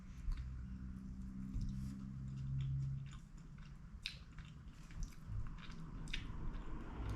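Fried rice congee being eaten, close soft squishy chewing and wet mouth sounds with a few small clicks and smacks, quiet and intimate, without speech.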